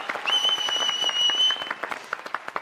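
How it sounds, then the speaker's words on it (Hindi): A small group in an office claps briefly, light scattered hand claps alongside a sustained electronic tone, tapering into a few sparse isolated claps at the end. "तालियां भाई,"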